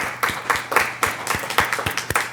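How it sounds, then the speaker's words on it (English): A small group claps in uneven, scattered bursts, fairly close, with the claps thinning and sputtering rather than building into a roar. "can we give a round of applause to Sarah Goldstein"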